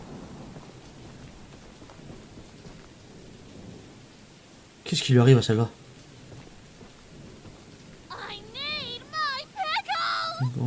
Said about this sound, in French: faut arrêter avec le tonnerre là